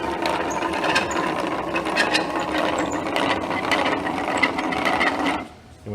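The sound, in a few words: screw advance box joint jig being returned to start position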